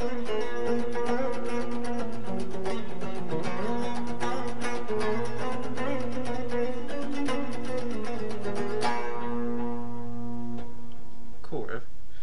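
A clean electric guitar plays a metal-style riff that blends Phrygian Dominant and Byzantine scales. Ringing notes and picked runs sound alone, then fade out near the end.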